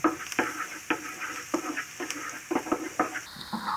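Minced garlic and ginger dropped into a hot pan, sizzling and frying steadily close by, with a utensil stirring in quick scraping strokes and no talk.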